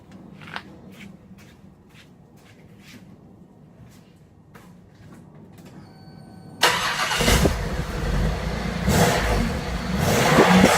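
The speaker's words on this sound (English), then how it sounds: "Okay, I'm gonna give it a rev now" A car engine catches and roars into a rev partway through, loud and close, after several seconds of quiet with faint clicks and rustling.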